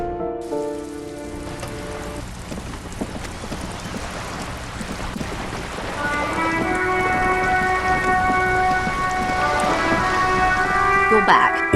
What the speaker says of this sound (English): All around you, rain keeps falling.